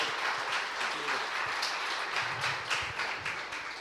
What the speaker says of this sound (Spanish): Dale un aplauso al Señor entonces, si lo crees.